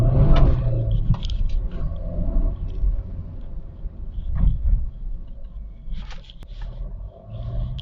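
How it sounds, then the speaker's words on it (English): A diesel engine in a tuned Suzuki car with a performance air filter runs steadily with a low rumbling drone, with some brief clicks and bumps over the top and no talking. "Being a diesel car, the diesel clatter has also reduced by a huge margin."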